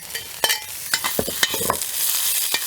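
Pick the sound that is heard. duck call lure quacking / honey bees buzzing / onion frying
onion frying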